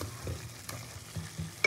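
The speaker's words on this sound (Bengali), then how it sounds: "মশলাটা খুব ভালো করে কষিয়ে নেব" Spice masala paste cooks in a pan before marinated chicken goes in, a close sizzle with a few low stirring scrapes and a sharp clink at the end.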